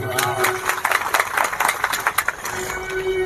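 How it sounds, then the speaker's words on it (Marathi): An audience at a Shrimad Bhagavat katha, a religious discourse, bursts into a loud round of clapping with some crowd noise, a sustained patter of many hands over a few seconds. "टाळी वाजवा"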